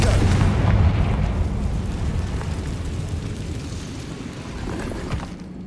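Confringo fire spell exploding in Hogwarts Legacy, a heavy booming blast that rumbles and fades over several seconds with a small crackling burst near the end.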